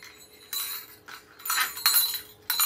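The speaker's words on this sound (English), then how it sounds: "Of course, they've got the regular bell we're all used to." A Northern Lights rattle wheel for ice fishing rings its small bell in several quick bursts of bright metallic jingling, close by with brief pauses between.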